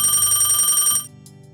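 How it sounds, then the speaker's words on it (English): A telephone ringing for an incoming call: a loud, steady electronic ring with bright repeating tones lasting about a second, then cutting off abruptly into quiet. "I got another phone call from the same number as earlier, so I half-heartedly answered it"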